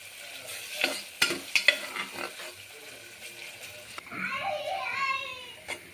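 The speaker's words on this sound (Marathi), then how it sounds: "कांदा थोडासा परतू देऊ, गुलाबी रंग येईपर्यंत।" Onion frying in a pan for a spicy Khandeshi mutton curry, a soft sizzle with a few sharp clinks of a spoon against the pan, then brighter crackling hiss in the last seconds.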